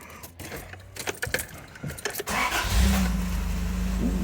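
Keys jangle and clatter briefly, then a 1984 Toyota Tercel 4WD engine cranks and catches, settling into a steady idle rumble close by.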